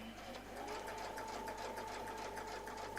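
Sewing machine stitching steadily along a curly-Q quilting template, a continuous close, even mechanical whir with rapid needle pulses and no pauses.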